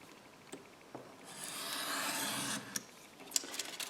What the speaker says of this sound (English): Grab my craft knife.